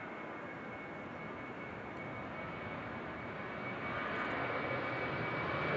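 Near and loud, a TUI passenger jet at Manchester Airport gives off a continuous engine roar and whine that holds steady and grows slightly louder toward the end.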